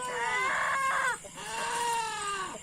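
A hen gives two drawn-out, wavering clucking calls, close and fairly loud, the second after a brief pause.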